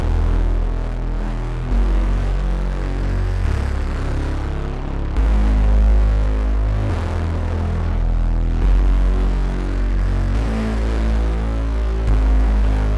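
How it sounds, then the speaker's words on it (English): A deep, sustained synth bass line from a Serum preset rolls along steadily, holding long low notes that shift every second or so, filling the low end with no voices. "I bring in a bass"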